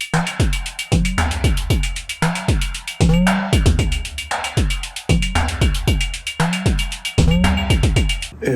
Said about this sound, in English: I took 5 or 6 of the percussion presets and built a beat